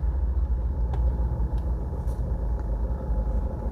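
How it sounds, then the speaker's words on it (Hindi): A Mahindra Scorpio 2021 BS6 rolls slowly with its handbrake engaged, giving a steady low engine and road rumble with faint clicks, close and continuous with no talk. "हैंड ब्रेक लगा के चलने से गाड़ी कैसे आवाज़ करती है"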